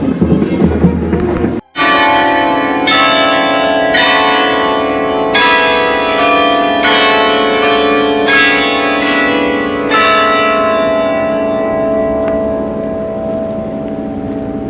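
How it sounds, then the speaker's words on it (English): Church bells in Belgrade ring out loud and close, a series of resonant strikes in a slow sequence, their long ringing tones overlapping and gradually fading. "It's a different tune from the bells."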